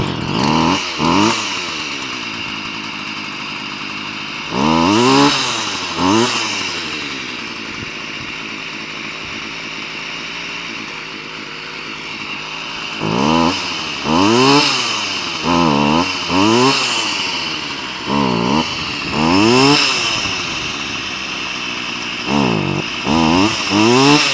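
Petrol strimmer line trimmer engine running on its carburettor, close and loud, idling roughly between repeated sharp revving bursts that rise and fall in pitch.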